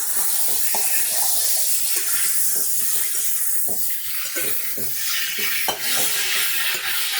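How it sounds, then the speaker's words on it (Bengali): Vegetables and spices with ginger-garlic paste sautéing in a pan over a medium flame for a Bengali home dish, with a steady soft sizzle and hiss and scattered clinks and scrapes of stirring. "আদা রসুন বাটা দিয়ে ভালো করে আমি 2 থেকে 3 মিনিট কষিয়ে নেব।"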